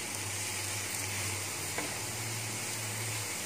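Pesarattu, a moong dal dosa, sizzles softly and steadily on a hot pan as it is turned, a faint, continuous hiss with no voices.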